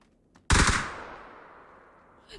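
A single loud gunshot ringing out in a PUBG-style battle royale game, sharp and close with a long decaying echo trailing away.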